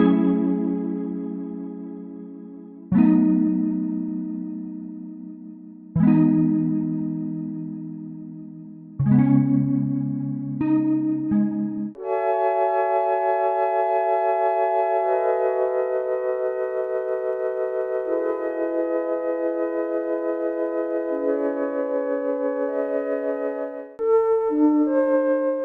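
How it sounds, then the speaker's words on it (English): A run of preset sounds from the free Retro Vibes Lite synth plugin: four short plucked chord stabs, a quick pair of notes, then a long sustained shimmering chorused chord that shifts pitch and ends in brief notes, heard without any talking. "the free Retro Vibes Lite plugin has had an update, so let's have a little flick through these presets"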